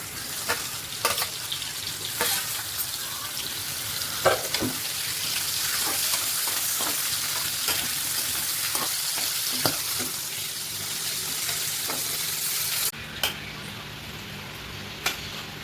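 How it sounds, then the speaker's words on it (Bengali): Capsicum pieces marinated in salt and turmeric fry in hot oil in a kadai, giving a continuous loud sizzle with occasional stirring clicks and scrapes; the sizzle drops away abruptly near the end. "এখন এটাকে আমি তেলে ফ্রাই করে দিচ্ছি"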